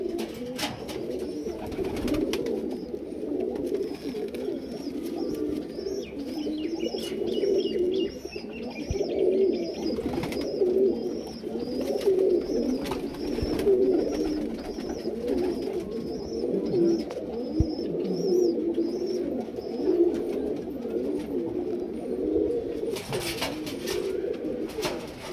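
A flock of breeder pigeons coos continuously nearby, overlapping low burbling phrases in a rhythmic pulse, with light chirps and scattered flutters mixed in.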